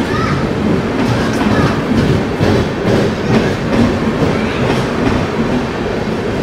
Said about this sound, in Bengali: আর এই হচ্ছে চেন্নাই মেল, চলে গেল চেন্নাইয়ের উদ্দেশ্যে।